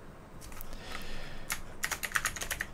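Typing on a computer keyboard nearby, soft scattered key taps building into a quicker burst of sharper clicks toward the end, quiet and without speech.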